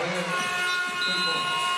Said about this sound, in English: Carly Ernst with the big bucket right on the buzzer.